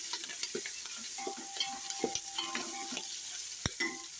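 Ginger, green chilli and onion pieces frying in a pan for jackfruit biryani, with a quiet steady sizzle broken by soft stirring scrapes and clinks of a spoon, and no talking.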